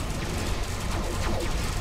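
Starship cannons fire in Star Trek Online, a continuous loud barrage of booming, crashing blasts with rapid overlapping impacts and no talking.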